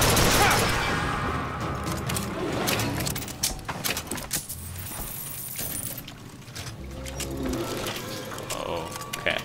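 Gunfire in the video game Bioshock Infinite, a rapid burst of shots at the start fading into scattered bangs and mechanical clatter under game sounds, with a voice talking at times.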